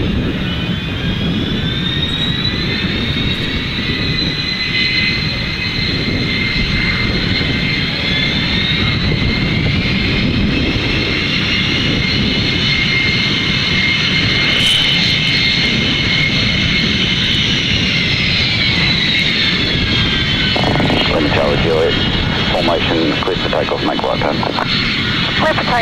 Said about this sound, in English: Tower, fast jet formation, L39 jets